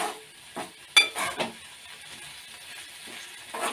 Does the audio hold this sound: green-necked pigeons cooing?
no